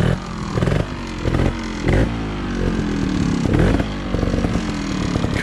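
A motorcycle rides along with its front wheel lifted, the engine buzzing loud and close with repeated rises and dips in revs and some scraping clatter.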